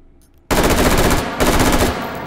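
A rifle in a VR shooting game opens up after a short quiet moment with loud, rapid automatic bursts. The firing breaks briefly, then resumes as a dense rattling volley, close and alone.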